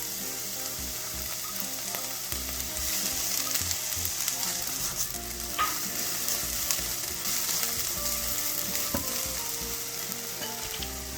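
Carrot and onion stir-frying in a hot pan for seafood jjamppong, a steady dense sizzle with occasional utensil scrapes and clicks, close and even throughout with no talking.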